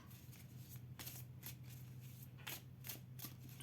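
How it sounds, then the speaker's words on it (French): A tarot card slid back into the deck, heard as a run of soft, close papery shuffles and taps over a low steady hum, with no talk. "Je vais aller remettre une carte derrière."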